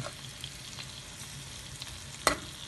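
Chicken pieces browning in half a glass of oil with onion, coriander, pepper, salt and ginger for a tajine, giving a soft steady sizzle with a single sharp spatter or utensil tap, quiet and without speech.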